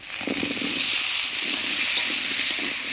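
Boiled potatoes dropped into hot oil with chopped onion, cumin and bay leaf, setting off a loud, steady sizzling hiss that stays even throughout, close up with no talking.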